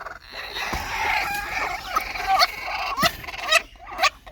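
Two broody domestic hens sitting on clutches of local hen and Chinese duck eggs cluck close by, giving a run of sharp, irregular clucks and squawky calls over a soft background.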